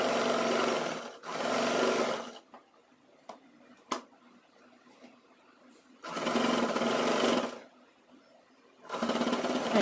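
A sewing machine runs double stitching on a girls' uniform skirt in three separate bursts of rapid, whirring stitching. Quiet pauses fall between the bursts, broken by a few faint clicks.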